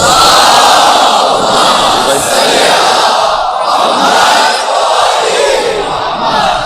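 A large crowd loudly chants salawat together at a religious gathering, sustained, their massed voices swelling and dipping in unison.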